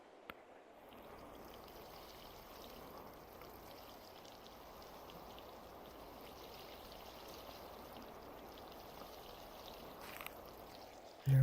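Water pours steadily from a watering can onto plants in the Project Leo video game, a continuous trickling stream that runs for about ten seconds with no talk.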